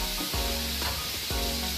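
Steak sizzling as it hits hot oil in a pot while cooking Jamaican steak lo mein, a steady close, loud hiss that holds throughout with a few soft pops and shifts.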